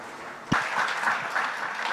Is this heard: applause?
yes